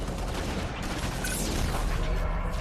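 Sustained turret fire in Halo: Reach, a dense rapid stream of shots rattling continuously at moderate loudness with a muddy low rumble underneath, no voices.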